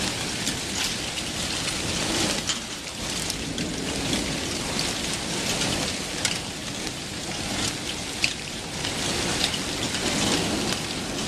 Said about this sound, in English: It's not typical of the Chicago storm to have an unending rumble.